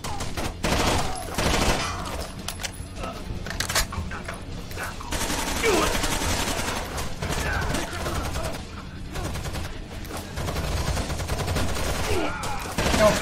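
Dense, sustained gunfire in the Rainbow Six Vegas 2 tactical shooter, with rapid automatic bursts and single shots layered over each other throughout, loud and near, mixed with game effects and occasional voices.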